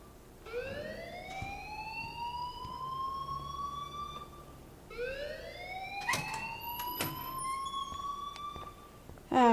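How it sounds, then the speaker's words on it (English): A rising and falling alarm siren in the Life Is Strange video game, two long upward sweeps that climb and hold, sounding loud and steady over a low background hum, with a few sharp clicks near the end. "please turn off that alarm since that's your job"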